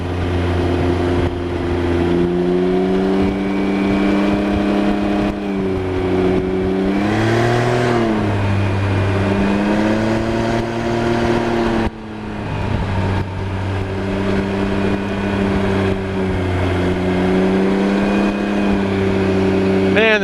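A Can-Am Ryker three-wheel motorcycle engine drones steadily while riding, rising and falling in pitch through gear changes and throttle shifts, loud and continuous with one brief dip.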